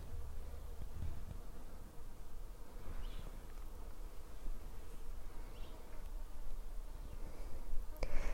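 A bee buzzes around a blossoming spring tree outdoors, a faint, steady hum that carries on throughout with light background rustle.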